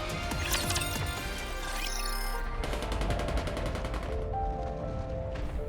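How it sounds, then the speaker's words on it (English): Gunfire in the video game Goddess of Victory: NIKKE, dense and continuous bursts of rapid shots, layered with metallic clatter, ending in a fast, evenly spaced automatic volley. "Gunfire rings out."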